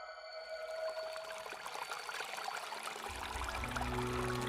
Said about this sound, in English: the sound of water tells me we are almost there